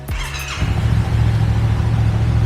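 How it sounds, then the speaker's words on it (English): Motorcycle engine cranking and catching, a brief whirring start followed by a loud, steady close-up idle rumble. "Start your engine."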